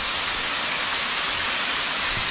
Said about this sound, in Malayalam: വെള്ളച്ചാട്ടം നമുക്ക് അടുത്ത് കാണാൻ പറ്റും